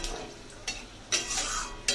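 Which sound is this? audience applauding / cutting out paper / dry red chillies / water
dry red chillies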